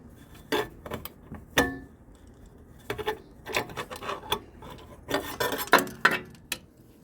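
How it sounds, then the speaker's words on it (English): Ratchet working a bolt on a 2005 Mercedes S55 engine bay, a series of short rasping clicks and scraping strokes in separate bursts, close and fairly loud, with no talking. "to get a ratchet in there pointing towards the left side and pushing up on it to get some decent torque on it at least"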